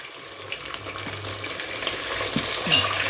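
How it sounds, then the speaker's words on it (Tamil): Mutton sizzles steadily in a hot pan with tempered spices while a spoon stirs and scrapes through it now and then, close up, with no talking. "கறி நல்லா உள்ளே போட்டாச்சு, தாளித்து விட்டுருக்கேன்"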